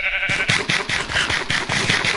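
Several sheep bleats from Minecraft, a repeated wavering blocky game-animal cry, sounding close and loud in quick succession with no talking over it.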